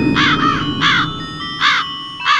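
Crow caws: four loud, harsh calls in irregular bursts, close and clear over a low background hum, with no talking.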